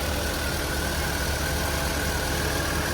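A car engine idles steadily after a jump start with jumper cables, a continuous, fairly loud, even mechanical rumble with no talk over it.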